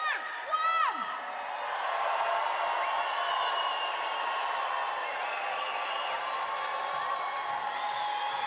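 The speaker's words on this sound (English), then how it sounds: "If you're an adult or a parent, in 3, 2, 1, cheer with Kelly" Adult and parent spectators in a basketball arena cheer together in a sustained, loud crowd roar with whoops, following a brief high whistle-like sweep at the start.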